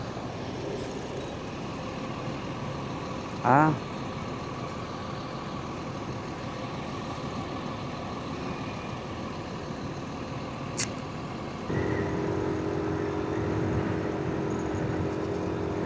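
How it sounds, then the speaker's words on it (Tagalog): Road traffic passing a construction zone, with trucks and heavy equipment working nearby: a steady engine and road rumble throughout, a brief higher-pitched squeal or brake hiss early on, and a louder, heavier engine drone coming in near the end. "Dahil may mga heavy equipments na nagtatrabaho."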